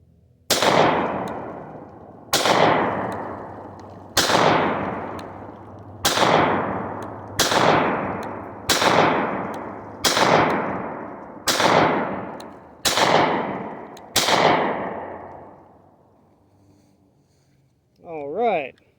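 Nine sharp, loud pistol shots from a Canik Mete MC9 at a shooting range, fired at an even pace roughly one and a half seconds apart, each with a ringing decay, followed by a brief voice at the end.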